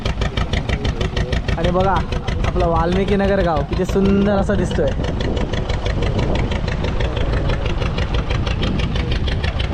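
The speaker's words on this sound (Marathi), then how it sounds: "बोट आता आपण स्टार्ट केली आहे" A small fishing boat's engine chugs steadily and loudly on Bankot creek near the Koliwada village of Valmiki Nagar, a continuous drone with someone talking over it.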